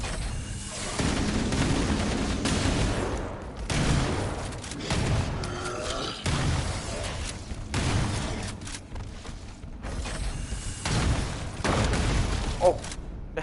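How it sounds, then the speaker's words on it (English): Fuel rod cannon fire and explosions in the Halo Campaign Evolved video game on PS5 make a dense, continuous run of loud booms, blasts and gunfire bursts with no break. "He had a fuel rod cannon."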